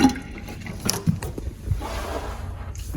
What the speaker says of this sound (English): She's draining.